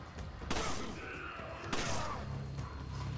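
Gunfire in Resident Evil 5 appears as two loud, abrupt shots about a second apart over a busy game background with low rumble.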